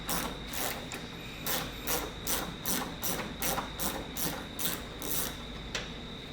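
Ratchet loosening a 10mm headlight bolt on a 2015 Toyota Tundra, about a dozen short bursts of clicking in an uneven rhythm, close but fairly quiet, no talking.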